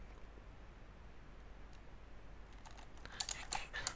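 Keys clatter on a computer keyboard as a command is typed at an Ubuntu server terminal, starting with a few faint taps and then a quick burst of close, crisp clicks in the final second over a quiet background.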